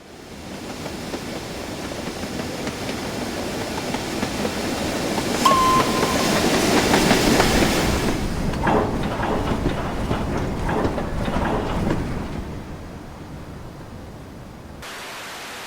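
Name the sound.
steam tank locomotive running, from a video game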